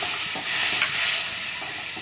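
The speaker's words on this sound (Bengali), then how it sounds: "এবারে আমি একটু জল দিয়ে দিচ্ছি," Water poured into a pan of sizzling ginger, poppy seed and mustard paste bursts into a loud, steady hiss and bubbling that fills two seconds, with no one talking.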